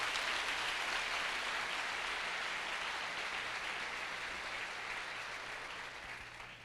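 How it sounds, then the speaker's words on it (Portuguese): A church congregation applauds together, a steady wash of clapping that holds loud and even throughout before easing slightly at the end, with no voices over it. "Vamos dar uma linda salva de palmas pela vida dessa princesa."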